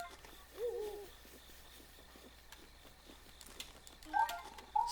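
An owl hoots in Breath of the Wild, a short wavering call near the start and two brief hoots near the end, faint against a quiet game ambience with no talk.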